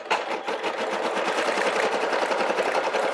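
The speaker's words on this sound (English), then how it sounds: "let the SC1900 stitch out this new color" A Brother SE1900 embroidery machine stitches a design in a rapid, steady rhythmic chatter of needle strikes. It runs close and continuous throughout, with no one speaking over it.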